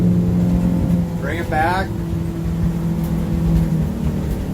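A 2019 Duckworth boat's outboard motor hums steadily at planing speed, a constant low drone with its pitch rising slightly as the revs come up, while someone talks briefly over it.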